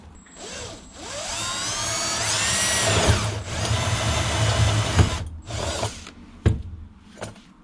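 A handheld power drill bores one of a series of holes through the metal of a homemade rockhounding scoop, its motor rising in pitch and whining steadily for several seconds before winding down, followed by a couple of sharp clanks close by.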